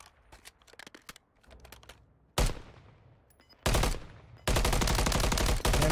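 Video game gunfire in a competitive match: scattered single shots early on, then loud sustained bursts of rapid automatic fire crackling in long strings, fairly close and mostly alone.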